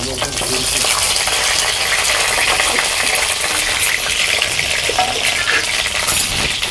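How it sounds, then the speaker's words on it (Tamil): Eggplant fries in hot oil with a loud, continuous sizzle, and occasional light metallic clinks of stirring sound close by throughout. "கத்திரிக்காய் நல்லா வதங்கிற அளவுக்கு நம்ம இது பண்ணிக்கலாம்."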